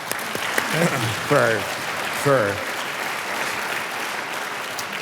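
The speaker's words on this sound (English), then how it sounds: "So you should applaud" Audience applause at a podcast conversation on liberty, steady clapping throughout with a speaker's voice briefly over it near the start.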